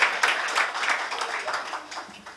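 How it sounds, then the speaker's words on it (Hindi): Audience at a book release and discussion event claps, a brief round of scattered applause that starts loud and slowly tapers off. "यहां ताली बजाई जा सकती है।"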